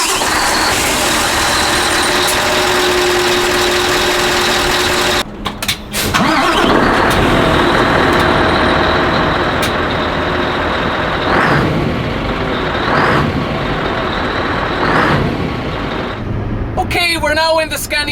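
A 2014 Scania R560 V8 truck engine rumbles steadily at idle, with a brief pause and door-like clunks partway through and some talk over the drone.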